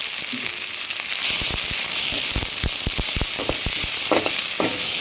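Crushed small garlic cloves fry in a pan for a fish gravy, a loud close crackling sizzle that jumps up after a second, scattered with sharp pops and spatters.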